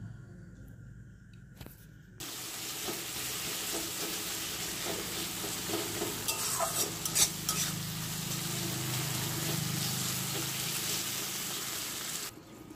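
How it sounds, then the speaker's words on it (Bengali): Ground spice masala with red chilli powder and a splash of water, stirred and fried in a pan for a Bengali rui posto fish curry; steady close sizzle with scraping stir strokes, starting after a quiet opening. "তো মশলাটা একটুখানি জল অ্যাড করে খুব ভালো করে কষিয়ে নেব।"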